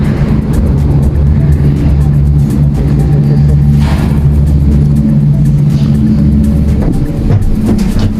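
A vehicle pulls up to a stop with a loud, continuous low engine rumble and road noise that holds steady for several seconds, with no talking.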